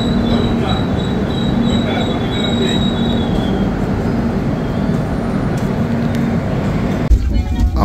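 An Eastern Railway diesel train set at Bardhaman Junction rumbles steadily and loudly, with high wheel squeal and rail noise throughout.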